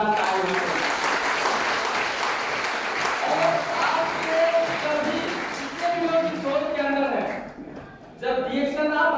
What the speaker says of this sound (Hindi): प्लीज इनके लिए एक जोरदार ताली बजाएं।